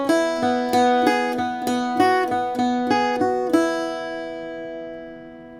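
Played slowly on an Irish bouzouki, the first line of the A section of the jig Calliope House starts with pickup notes, then a steady series of bright plucked strums follows, ending on a long ringing note, solo and close.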